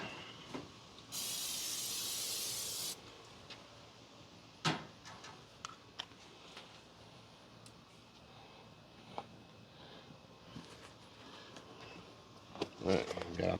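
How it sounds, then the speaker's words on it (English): Cooking spray hisses in a brief steady burst onto smoker grates and vegetable baskets on a Char-Griller 980 gravity-fed smoker, followed by scattered clinks and handling noises nearby. "I just want to lightly spray the grates."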